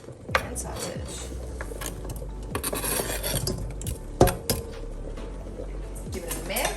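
Onions and sausage in olive oil are stirred in a pan, a spatula scraping and rubbing against the metal with an occasional clank, with some talk faintly underneath.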